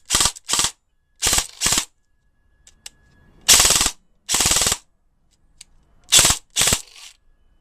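A VFC MP5 airsoft gun running on an 11.1 V battery fires a series of short automatic bursts, roughly seven pairs of sharp rattling volleys separated by brief pauses, close and loud with no talking.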